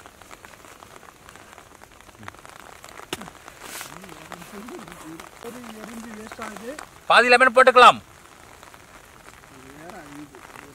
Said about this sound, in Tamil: மழை வேறு பெஞ்சிட்டே இருக்கு